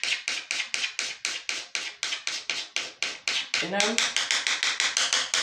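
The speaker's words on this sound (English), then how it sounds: "scratching pretty hard and still no damage to the paint" A coin scrapes hard across a painted melamine cabinet surface in a steady run of rhythmic, raspy strokes, close and loud, with a man's brief speech breaking in near the end.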